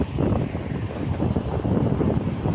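Steady sea wind buffets the microphone on Digha Mohana beach, a loud continuous low rumble with no voices.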